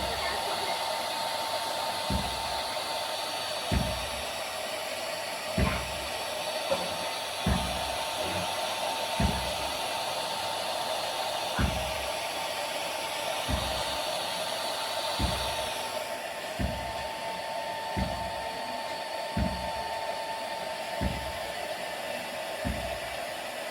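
Hot air blowing onto freshly painted metal as the final finishing step, a loud steady whooshing hiss that runs without a break and is punctuated by regular dull knocks, with no voices.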